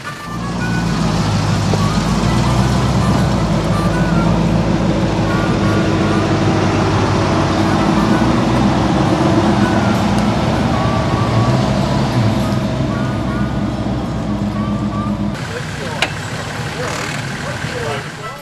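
A Toyota Hilux 4WD off-roader with a Bandera front end and coil springs drives with a convoy toward bog holes. Its engine drones loudly and continuously, then drops off abruptly near the end.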